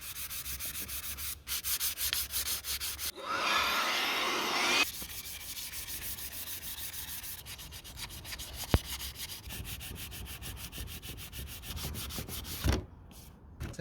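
Fine 1500-grit sandpaper rubbing over a hand-shaped rimu wood rifle stock, a soft continuous abrasive hiss that swells louder for a couple of seconds in the middle, with a few faint clicks and taps around it.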